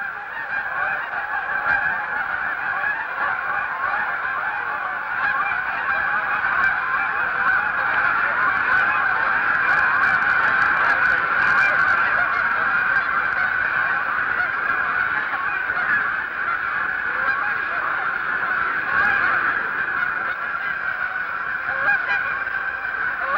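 A large flock of migrating geese at a Canadian bird sanctuary honking continuously, a dense overlapping chorus of calls that carries on steadily for over twenty seconds.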